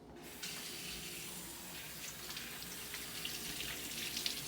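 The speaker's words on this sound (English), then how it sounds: "we are gonna wash our logs or our vegetables" Faucet water runs steadily into a sink as celery is rinsed for an ants-on-a-log snack, a continuous moderate splash that begins abruptly and holds through to the end.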